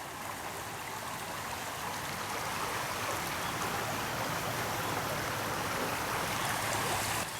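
Creek water flowing at night, a steady close rush and babble of current that holds constant and slowly builds slightly, with no voices over it.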